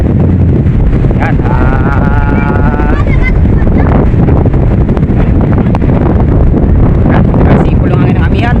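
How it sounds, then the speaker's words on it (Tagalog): Strong northeast monsoon wind whistles and buffets loudly at sea off Palawan aboard a fishing boat, with someone talking throughout over the constant roar. "sipol yung hangin ng amihan."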